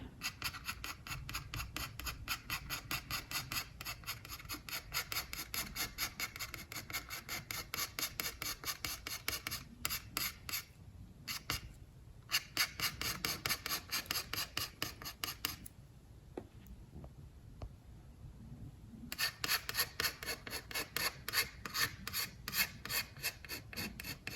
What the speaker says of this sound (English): I'm going along kind of in a contour kind of scraping motion.